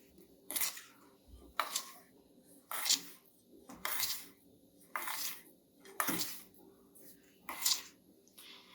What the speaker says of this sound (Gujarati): હવે આને આપણે બરાબર મિક્સ કરી લઈશું.